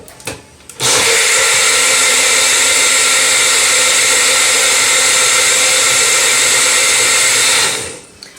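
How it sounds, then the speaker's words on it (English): A blender whirs through a cashew alfredo sauce in one loud, steady run of about seven seconds, beginning with a brief stutter and cutting off cleanly, with no voices over it. "So, let's just get this all blended together."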